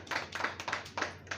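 Applause at a traders' association meeting forming a youth district unit in Lucknow: a short burst of rhythmic clapping, five distinct beats, fairly faint and without voices.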